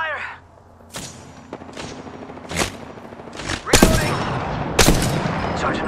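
Gunfire in the Apex Legends video game: a series of sharp, separate shots and heavier blasts spread irregularly across several seconds, some loud and close, with softer ambient noise between them.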